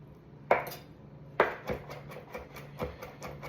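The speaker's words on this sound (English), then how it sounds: "Kind of just keep chopping." Knife chopping shrimp filling for shumai on a board: a series of close, irregular knocks with a few sharp hits and lighter taps between them.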